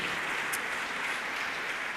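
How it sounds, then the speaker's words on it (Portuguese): A church congregation clapping, a dense, steady wash of applause heard up close for a brief moment. "Um aplauso para eles."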